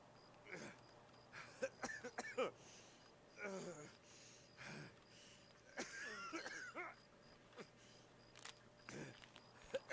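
Coughing during a Hardcore Tarkov match on the Interchange map, a series of short harsh coughs and throat-clearing bursts repeating across the stretch, faint and somewhat distant over quiet background.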